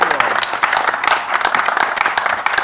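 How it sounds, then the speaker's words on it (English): A big round of applause at a folk and bluegrass festival symposium, close lively clapping with sharp individual claps and crowd noise mixed in. "Should we get a big round of applause for Lee?"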